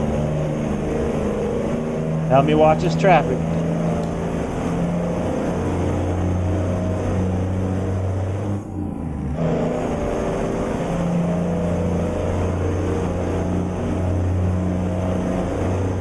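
A Peterbilt truck engine in American Truck Simulator hums with a steady low drone that slowly builds as it accelerates, briefly dipping midway, while a person speaks over it.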